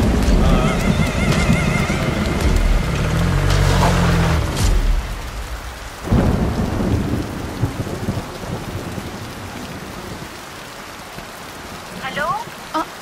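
Heavy rain pours steadily with deep rolls of thunder, dense and loud throughout, with a brief low crash midway and faint higher cries in the mix.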